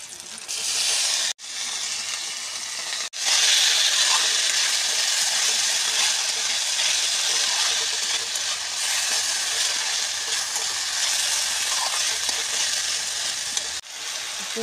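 Boiled mushrooms tipped into a hot pan hiss and sizzle loudly and steadily at close range, with a couple of brief dropouts early on, and no voice over it.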